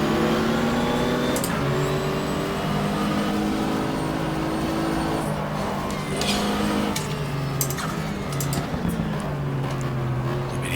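Race car engines drone and shift pitch continuously while passing a Porsche on the Daytona circuit in the GTR2 racing game, dense and loud throughout, with gear changes and overlapping engine tones.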